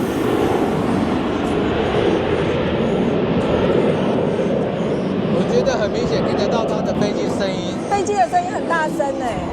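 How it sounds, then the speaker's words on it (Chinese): Loud, continuous rumble of a jet airliner coming in to land, dominating the scene, with faint voices briefly audible near the end. "也有一台要降落了"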